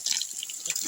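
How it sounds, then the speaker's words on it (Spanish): Water running from a tap outdoors, a steady close splashing stream with light dripping texture, heard alone for about a second. "ya vamos a sacar agua"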